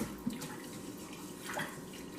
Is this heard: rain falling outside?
no